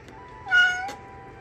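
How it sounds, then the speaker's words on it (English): A single short cat meow, fairly clear and close, followed by a brief faint rustle, with quiet background otherwise. "Cat."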